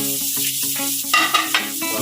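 Chopped ginger, garlic and onion sizzling as they fry in a pan, close and continuous, with scraping stirs and a few louder hissing bursts partway through, no talk.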